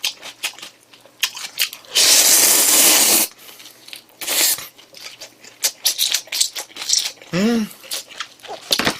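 Pickled radish wraps eaten with bossam give close, crunchy bites and a long crisp chewing burst, set among short wet mouth noises and intermittent talking.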